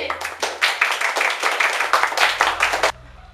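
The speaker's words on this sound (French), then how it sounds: "On applaudit Ptolémée!" A short burst of brisk hand clapping from a small group, close and lively, stopping abruptly after about three seconds.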